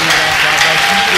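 A church congregation applauds and cheers in a dense, steady wash of clapping, with voices mixed into the crowd noise throughout the short burst.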